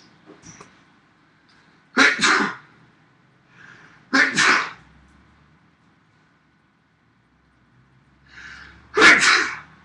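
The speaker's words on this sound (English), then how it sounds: "I'm going to sneeze." Three loud sneezes spaced a few seconds apart, each preceded by a short sharp inhale, in an otherwise quiet room.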